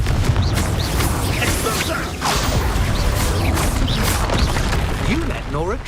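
A Confringo fire spell blasts in Hogwarts Legacy combat, with booming bursts and whooshes layered over busy, chaotic battle noise while voices speak.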